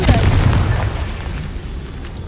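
Confringo blasting spell cast in a Harry Potter video game: a loud, deep boom that swells at once and rumbles away over a couple of seconds, close and dominant.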